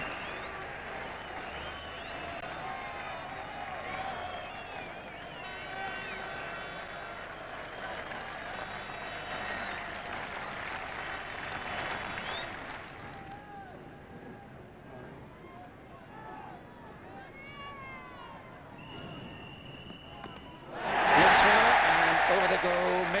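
Cricket crowd at the Oval applauding during the 1981 England v Australia Test, a broad wash of clapping and crowd noise under commentary, dipping midway and then swelling loudly near the end.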